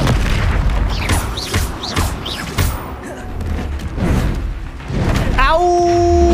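The Expelliarmus spell fires in the video game Hogwarts Legacy with booming magical bursts and whooshes, layered with game music and effects while a person talks over the action.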